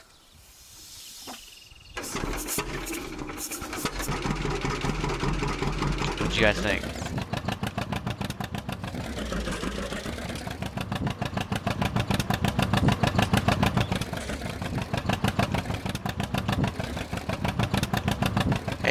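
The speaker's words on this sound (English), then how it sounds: "This tractor right here, brother. You gotta get it. Listen to how good it sounds." A tractor engine in Farming Simulator 19 starts up and idles with a rapid, steady chugging that rises and falls slightly, while someone talks over it.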